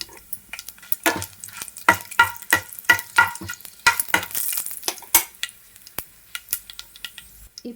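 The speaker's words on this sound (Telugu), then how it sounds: "నూనె అనేది వేడైన తర్వాత పోపు దినుసులు అయితే వేసేసుకోవాలి. పచ్చెనపప్పు, ఆవాలు, జీలకర్ర, ఒక ఎండుమిరపకాయ అయితే తుంచుకొని వేసుకోవాలి" Chana dal, mustard seeds, cumin and a torn dried red chili hit hot oil for a tempering, giving close, sharp crackles and irregular pops over a soft sizzle, with no talking.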